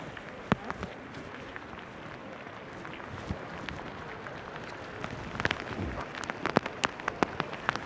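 Water patters steadily onto the ground from a fountain in Salzburg, sounding like rain. The hiss is continuous, with scattered sharper droplet hits and no talking.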